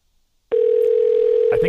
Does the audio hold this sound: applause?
no